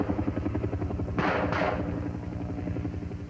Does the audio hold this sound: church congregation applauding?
no